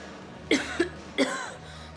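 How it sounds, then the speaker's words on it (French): Two short, sharp smoker's coughs, the first a quick double, followed by a single cough; close and fairly loud against a quiet room. "Je tousse à cause du tabac."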